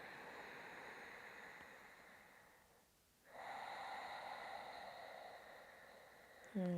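A slow, breathy throat exhale during a throat-chakra yoga breathing exercise, like fogging a window, heard close and soft, with a brief pause, then a second long hushed breath.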